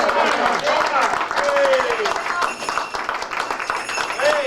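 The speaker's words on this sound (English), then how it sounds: "Santa got to the bottom of the boxes, so I think we should all give him a big applause." Crowd at a Christmas lunch applauding Santa, scattered clapping beneath cheering and overlapping talk, with voices calling out over the hands throughout.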